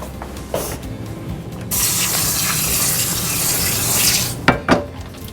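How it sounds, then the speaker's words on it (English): Raw cashews being rinsed under a running kitchen tap: a few knocks and clatters, then a loud steady gush of water that keeps flowing, ending with sharp knocks as the tap shuts off. "anytime you're using a raw cashew, it's always a good idea to rinse it"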